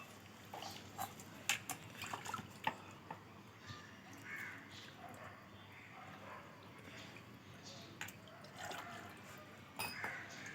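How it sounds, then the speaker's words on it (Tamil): Water is poured and splashes in uneven bursts, fairly quiet, against a low background hum with scattered clinks, during offset pipe bending. "பாருங்கள், தண்ணி எப்படி ஊற்றுறேன் பாருங்கள்."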